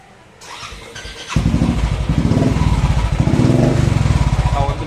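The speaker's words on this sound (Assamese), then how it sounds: "চাওক আপোনালোকক বাইকটো ষ্টাৰ্ট কৰি দেখাই দিওঁ।" A second-hand Royal Enfield Classic 350 motorcycle, about two and a half years old, is started after a brief mechanical click and quiet lead-in. It catches abruptly and settles into a loud, steady, pulsing single-cylinder idle close by.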